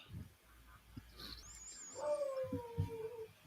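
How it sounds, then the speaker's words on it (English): A dog far off whimpers and howls faintly, a thin drawn-out wavering cry rising near the end over quiet background noise and soft low thumps. "And maybe a dog somewhere."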